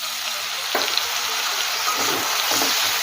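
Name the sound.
chopped tomatoes added to frying onion, ginger, garlic paste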